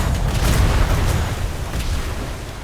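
Ship cannons aboard a first-rate sailing warship fire a volley in a multiplayer naval roleplay game, a loud, close, sustained rumbling boom of overlapping blasts that fills the whole moment.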